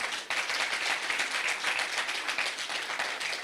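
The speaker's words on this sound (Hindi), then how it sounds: "एक बार जोरदार तालियां इनके लिए" Steady, dense audience applause at a spiritual society gathering, saluting the movement's founders, sustained and even throughout with no voices on top.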